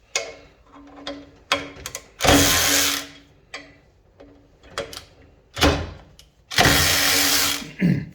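Snap-on power tool run in reverse to break a fastener loose at 55 foot-pounds: several short bursts, with two long loud hammering whirs of about a second each, close up, among quieter clicks and handling sounds.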